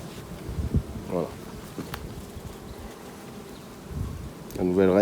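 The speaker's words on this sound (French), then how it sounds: "C'est des grosses abeilles." Large honeybees buzz around an open beehive during an inspection, with a steady close drone and sharper buzzes as single bees pass near; a person speaks over parts of it.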